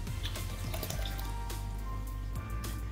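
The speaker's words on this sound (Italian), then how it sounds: "a cui andiamo ad aggiungere 200 ml di acqua" Water is poured into a bowl holding a plant-based coconut, soy or rice milk batter for a chocolate ricotta polenta cake, a quiet steady trickle with small drips and splashes, no talking.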